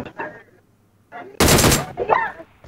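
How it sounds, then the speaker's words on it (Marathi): Gunfire in the video game PUBG Mobile, a loud burst of rapid automatic shots lasting about half a second, framed by excited voices talking before and after. "फायरिंग होते बघा"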